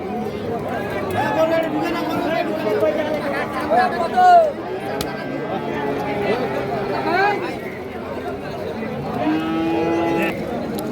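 Cattle, including Sahiwal bulls and calves, moo repeatedly amid a busy outdoor livestock market crowd at Ambari Haat, with people chatting, bargaining and calling nearby throughout.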